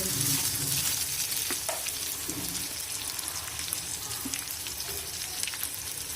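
Ground spices sizzle in hot oil in a pan with tomato and slit green chillies for a flat bean and mung dal dish, a dense, continuous crackle heard close with no voices.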